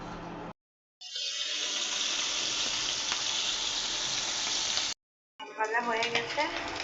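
Tengra fish, rubbed with turmeric and salt, hits hot oil with a loud, close burst of sizzling that holds steady for several seconds between short gaps, then turns to sputtering and crackling.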